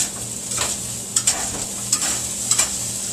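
Finely chopped onion simmers in a pan over a flame, a steady soft sizzle close by, with a few quick stirring scrapes and a light shake of the pan; no talking.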